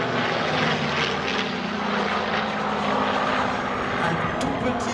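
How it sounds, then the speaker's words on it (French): A Messerschmitt 109 fighter with a Daimler-Benz engine flies over at an air show at La Ferté-Alais, a loud continuous propeller drone that stays steady throughout, with someone talking over it. "C'est le Messerschmitt 109."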